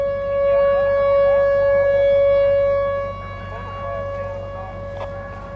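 A tornado siren blares as a steady, droning wail over a rumbling push-pull scrap metal train at a railroad crossing, holding loud for a few seconds before easing slightly.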